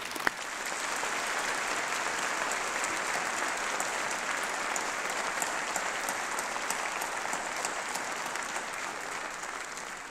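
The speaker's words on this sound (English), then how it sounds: "I think she deserves a round of applause." A graduation ceremony audience claps at length for a Turner Prize-winning painter, a broad, even roar of many hands sustained for about ten seconds with a sharp clap near the start.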